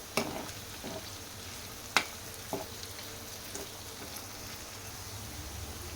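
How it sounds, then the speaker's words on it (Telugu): Okra pieces fry in a pan with a steady, quiet sizzle, broken by a few sharp clinks of a spatula against the pan. No voices. "బెండకాయ ముక్కల్ని ఇలా జిగురు తగ్గే వరకు ఇలా ఫ్రై చేసుకోవాలి"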